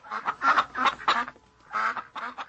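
Ducks quacking on a farm in a dramatised reading of Animal Farm: a quick run of loud, close, nasal quacks, a brief pause, then another burst of several quacks, with no talking over them.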